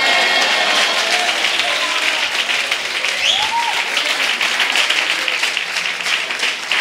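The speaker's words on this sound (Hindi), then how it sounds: "अच्छी ताली बजाओ।" Steady applause from a sermon audience fills the hall, a dense and continuous clapping that stays loud throughout, with faint voices mixed into the crowd noise.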